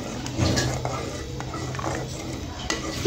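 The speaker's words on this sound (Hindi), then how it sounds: "मैं साथ साथ इसका चम्मच हिला रही हूँ।" A spoon stirring thick custard in a metal pot on a medium flame, soft scraping and clinking strokes repeating close up, with a faint low hiss underneath.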